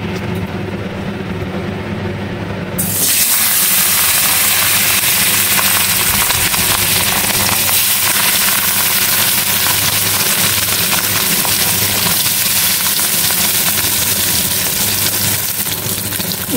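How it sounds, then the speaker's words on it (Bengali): Katla fish pieces sizzle in hot oil, a loud steady hissing fry that surges up after a quieter start and holds constant throughout. "তেলটা গরম হয়ে এসেছে, এবারে মাছগুলো আস্তে আস্তে ছেড়ে দেবো।"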